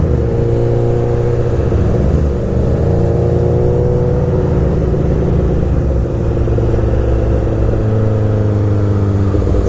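A light motorcycle engine roars loud and steady at high revs as the clutch is let out and the rear wheel spins, a continuous close rumble with no pauses.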